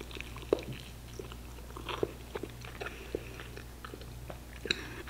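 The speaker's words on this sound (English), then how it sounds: "You guys hear that? One more bite." Close, faint biting and chewing of deli food, with soft crunches and moist mouth sounds in an otherwise quiet room.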